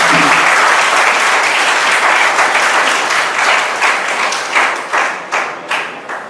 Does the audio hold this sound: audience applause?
yes